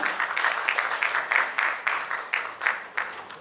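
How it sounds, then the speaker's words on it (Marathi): An audience at a Marathi film trailer launch applauds as writer-director Nikhil Vairagar comes on stage. The clapping is loud and close, swelling in steady pulsing waves with no voices over it. "एकदा जोरदार टाळ्या झाल्या पाहिजे त्यांच्यासाठी."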